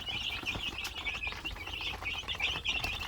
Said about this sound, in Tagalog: Nakakatuwa yung ating mga sisiw.